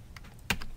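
A few computer keyboard keystrokes while entering a word into a spreadsheet cell: soft clicks early on, then one sharper, louder key press near the end, close and alone without speech.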